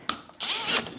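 A short burst of whirring power-tool cutting from a Parkside adjustable hole saw, a brief zip followed by a louder grinding rasp of the saw biting through material.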